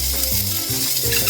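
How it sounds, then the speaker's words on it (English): Sausages hit a hot pan and sizzle loudly and steadily up close, with a few wooden tong clicks and scrapes against the pan. "We're going to go ahead, drop in the sausages."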